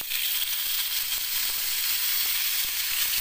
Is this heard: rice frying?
yes